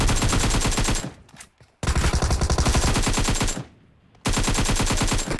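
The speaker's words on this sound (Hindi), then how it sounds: "अब वहां पर चल रही होती हैं गोलियां कतई" Rapid automatic gunfire in PUBG Mobile rattles loudly in long sustained bursts, broken by two short pauses, with no voices over it.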